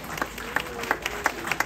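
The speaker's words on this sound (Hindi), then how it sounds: "ये इसकी भरपूर तालियां बजानी चाहिए आप लोगों को भाई" An audience at an Urdu poetry gathering in Chicago gives scattered applause, a handful of sharp individual claps spaced irregularly over a murmuring room.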